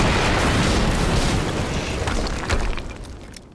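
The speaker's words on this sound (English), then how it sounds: "HQ, we just heard an explosion near the harvesting perimeter." A loud, sustained rumbling blast from the video game Quantum Break fills the whole stretch, with a sharper crack near the end before the roar tails off.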